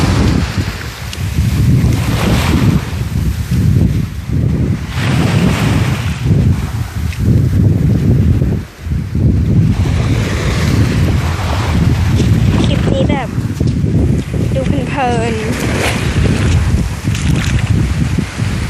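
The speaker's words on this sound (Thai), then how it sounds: "น้ำมาแรงมาก" Strong sea water surging and rushing at a beach in Prachuap in winter, a loud continuous roar with wind buffeting the microphone throughout.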